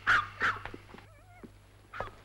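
A dog gives a couple of sharp yips followed by a thin, wavering whine, close by, then another short yelp.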